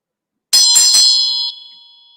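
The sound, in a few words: bell ringing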